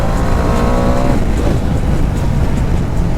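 A Bajaj Dominar 400 motorcycle accelerates hard along a straight road, its engine a loud, close, continuous roar that starts with a rising tonal whine and then settles into steady broadband rumble.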